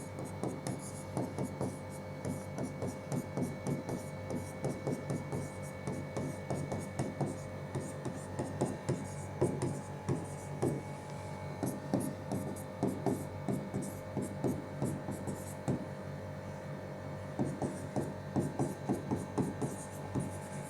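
A pen scratches across a paper application form in short, steady strokes, close and fairly quiet, with a soft rhythmic rasp that keeps going without any voice over it.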